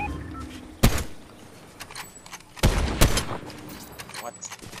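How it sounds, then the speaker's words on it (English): Gunfire in the Fortnite video game: several sharp, loud shots ring out, two bursts clustered close together, with voices talking between them. "Shooting."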